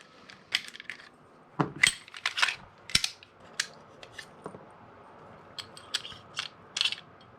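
Metal parts of an airsoft CZ P-09 pistol clicking, sliding and clinking as it is field stripped, with a series of close, sharp mechanical clacks and snaps spread irregularly over several seconds and no talk.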